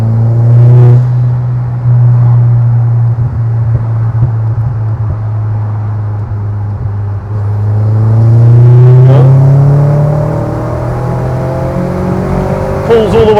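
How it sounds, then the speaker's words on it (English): Seat Leon Cupra R 1.8t exhaust heard from outside through an open window, a loud close engine drone that rises in repeated revving sweeps, climbing strongly toward high revs. "if I open the window, you hear how the exhaust sounds from the outside as well"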